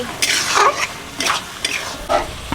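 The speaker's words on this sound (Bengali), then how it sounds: "ডিম ভাজার জন্য সর্ষের তেল দিয়ে দিচ্ছি" Eggs frying in mustard oil in a home kitchen, with bursts of sizzling and stirring scrapes that come and go in three or four waves, close and fairly loud, with no talking.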